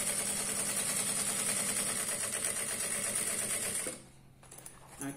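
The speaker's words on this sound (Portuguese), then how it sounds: "Então eu vou pespontar aqui, cara. Vou pespontar um lado primeiro e depois o outro." A sewing machine topstitches a notebook case, its needle running in a steady, fast mechanical chatter for about four seconds before stopping, leaving a quieter pause.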